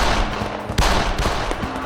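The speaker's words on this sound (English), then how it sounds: "gunshots whizzing past her" Gunfire sound effects in a dramatic audio story, a rapid burst of sharp shots with one louder crack near the middle, close and loud.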